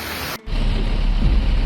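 Steady, dense hiss of heavy monsoon rain falling on the Mumbai-Goa highway in the Konkan region, loud and close throughout, with a brief dip in the noise near the start and no voices.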